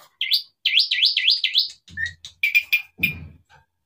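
A small Asian pied starling (jalak suren) chirps and trills in quick repeated warbling notes, clear and close, followed by a few shorter sharp tweets.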